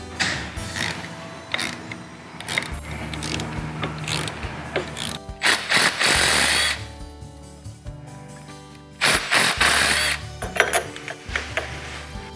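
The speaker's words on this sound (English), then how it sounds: "until we break the main shaft nut loose" Wrench working a motorcycle main shaft nut loose during a chain kit install, with bursts of rapid ratchet clicking, metallic clanks and knocks separated by short pauses, close and loud.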